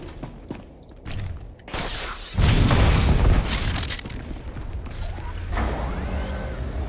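A cannon emplacement in Star Wars: The Old Republic fires heavy booming shots, with a big loud blast midway followed by rumbling impacts and scattered mechanical bursts.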